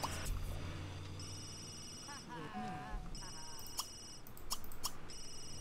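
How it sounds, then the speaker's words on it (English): A phone rings in The Sims 3 life-simulation game, with electronic ring bursts repeating over cheerful game music and a few other game sounds. "Answer the phone."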